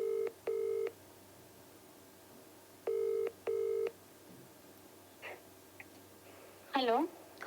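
Telephone keypad dialing tones sound in two paired bursts as a call is placed, followed by faint clicks and a brief burst of a voice on the line, over a quiet background.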